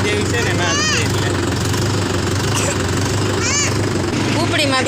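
A newly bought tractor's engine idles loudly and steadily with a low, knocking rumble, while voices talk over it now and then.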